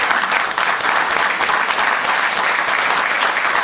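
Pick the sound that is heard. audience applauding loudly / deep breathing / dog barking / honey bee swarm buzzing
audience applauding loudly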